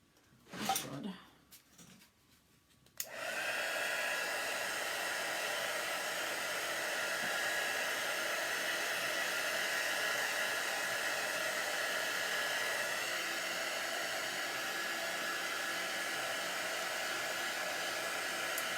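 After a few seconds of quiet handling noise, a hair dryer switches on and runs steadily at close range, drying chalk paste on a decorative wreath with a constant whooshing hum.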